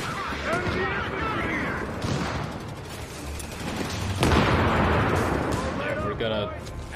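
A mortar barrage lands in Company of Heroes 3, with dense rolling booms and crackling blasts layered over battlefield noise for several seconds, building to a heavier impact near the end while voices speak over it.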